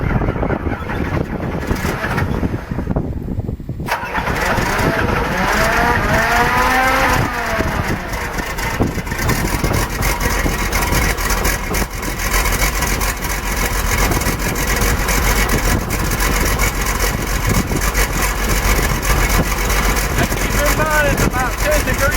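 A drive motor starts up outdoors in cold weather, shifting from low rumbling to a steady, loud running drone with wavering pitch sweeps as it comes up to speed, with talking heard early on.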